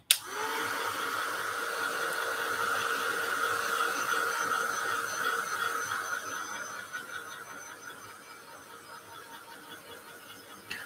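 A handheld heat tool blows steadily over drift wood slices being prepared for mixed media, a constant airy whoosh with a faint tonal whine that runs loud for several seconds, then eases and fades toward the end.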